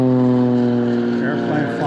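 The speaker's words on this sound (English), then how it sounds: "Airplane flying by." A propeller airplane flies over a clear-water trout stream, its steady droning engine hum loud and continuous, with the pitch wavering slightly as it passes.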